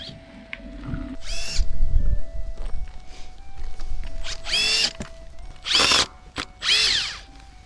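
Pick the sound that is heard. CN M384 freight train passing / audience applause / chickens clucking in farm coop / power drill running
power drill running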